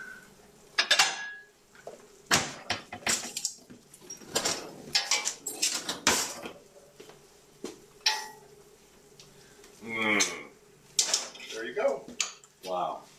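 Dishes and cutlery clatter in bursts as broccoli rabe with chickpeas is served into a bowl, with clinks and knocks scattered among people talking nearby.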